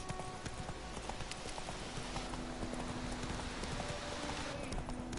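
Roach, Geralt's horse in The Witcher 3, trots steadily with rhythmic clip-clop hoofbeats over the game's ambient background, close and continuous for several seconds.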